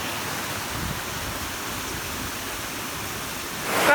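Steady broadband rush of a waterfall in rural Portugal, heard from right on top of the falls, loud and continuous, swelling briefly louder at the very end.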